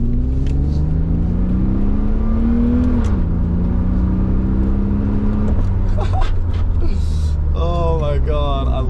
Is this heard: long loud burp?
no